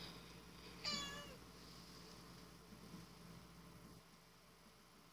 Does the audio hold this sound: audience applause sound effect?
no